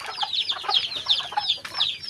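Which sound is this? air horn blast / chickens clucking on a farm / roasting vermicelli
chickens clucking on a farm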